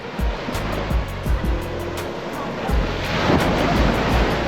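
Ocean waves break on a beach in Cyprus, with a continuous loud surf wash and rumbling surges under heavy wind buffeting on the microphone.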